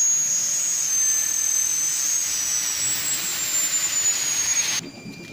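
Liquid nitrogen gas spraying out while making ice, a loud steady hissing roar with a thin whistling tone that holds for several seconds, then stops abruptly, leaving quiet room noise.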